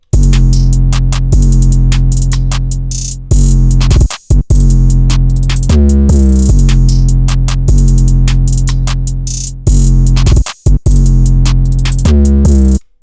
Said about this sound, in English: Altogether, the drums sound like this.